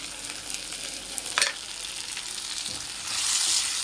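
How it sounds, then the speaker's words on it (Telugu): Sesame seeds, a few cashews and small pieces of coconut fry in a pan for a mutton gravy. A soft, continuous sizzle carries brief stirring scrapes and grows slightly louder near the end. "ఒక స్పూన్ నువ్వులు నాలుగైదు జీడిపప్పులు చిన్న కొబ్బరి మొక్క వేసుకోవాలి ఇవి కూడా ఒక్క నిమిషం పాటు వేయించడం"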